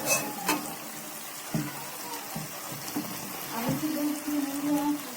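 Spiced potato curry for aloo dum fries in a pan as a spoon stirs it, giving a soft sizzle with intermittent scraping knocks and clinks, close and moderately loud, with no voices.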